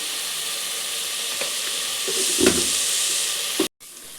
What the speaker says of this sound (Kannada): ಟೊಮೆಟೊ ಚೆನ್ನಾಗಿ ಫ್ರೈ ಆಗಿದೆ